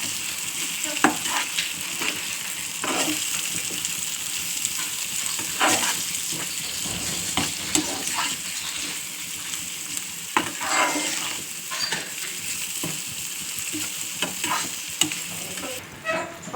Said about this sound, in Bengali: ডিশের মধ্যে যে মশলাগুলো রেখেছিলাম সেই মশলাগুলো আমরা সব দিয়ে দিচ্ছি, ভালো করে নেড়ে নেব।